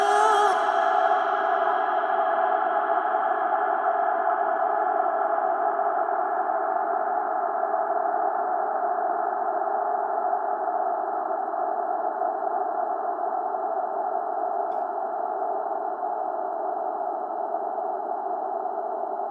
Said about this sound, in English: there seems to be a lot of reverb on that